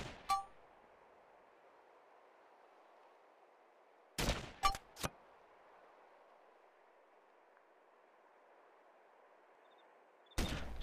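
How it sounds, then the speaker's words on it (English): A scoped assault rifle fires at a 150 meter target in the video game DayZ: a sharp shot, then a quick cluster of two or three more, and another shot near the end, separated by quiet steady ambience. "start off shooting my 150 meter target"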